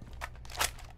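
A gun magazine is reloaded in Rainbow Six Mobile: a quick sequence of three or four soft mechanical clicks and a sharper snap, fairly quiet and close.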